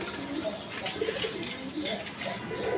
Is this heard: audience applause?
no